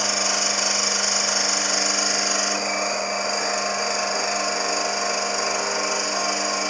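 A Mockmill 200 grain mill grinds wheat grains with a steady, loud, high-pitched whirring drone that slightly softens partway through, close up and with no talk.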